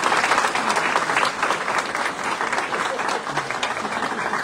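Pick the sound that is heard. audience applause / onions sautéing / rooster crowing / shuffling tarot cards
audience applause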